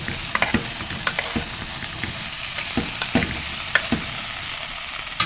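Onions sizzle and fry in a pan, with repeated scraping and stirring clicks from a utensil scattered throughout.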